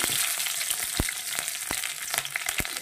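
Dried red chilli and garlic sizzle in hot oil, a steady close crackle broken by a few sharp clicks of a ladle against the pan, with no talking.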